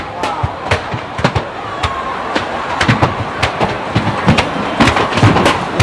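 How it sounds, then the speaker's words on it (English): Repeated sharp bangs and blasts burst from a fire in the Adum market area, landing in irregular clusters over a steady roar of flames, with voices faintly audible in the background. "I just want viewers to have a feel of the explosion, the blast"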